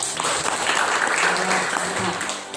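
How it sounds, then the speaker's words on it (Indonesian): A room full of people at a group presentation claps steadily in sustained applause, loud and dense, with some voices mixed in. "silakan duduk dan tepuk tangan untuk kelompok 1"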